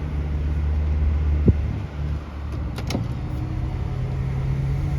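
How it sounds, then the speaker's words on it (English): Cars on a city road pass close on both sides in Corpus Christi, Texas, a steady low engine and tyre rumble with a brief sharp knock partway through and a couple of higher swishes as vehicles go by. "Cars coming up on both sides of me here."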